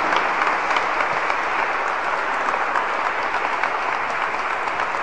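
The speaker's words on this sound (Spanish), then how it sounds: "Fuerte ese aplauso para el Señor" A church congregation claps in loud, dense, continuous applause during a worship service, a steady wash of many hands throughout.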